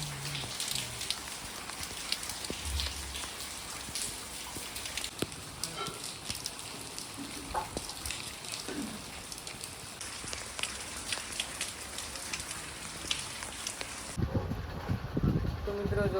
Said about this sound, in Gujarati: વરસાદ હજી ચાલુ છે ટીપ ટીપ ટીપ ટીપ